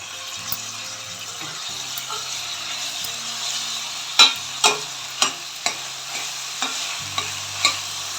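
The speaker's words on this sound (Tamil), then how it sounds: "தக்காளி சேர்த்து நல்லா வதக்கிக்கலாம்." Tomatoes with onions sauté in a pan for chicken gravy, a steady sizzle under repeated scraping stirs that knock sharply at a quick, uneven rhythm, close and moderately loud, with a faint low hum beneath.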